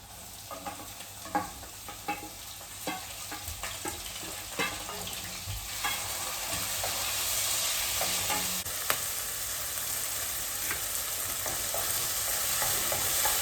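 Mint, green chilies, sliced onions and tomatoes sautéing in a pan for a simple pulao, with a steady close sizzle broken by repeated scraping stirs and clinks of a spoon, with no talk.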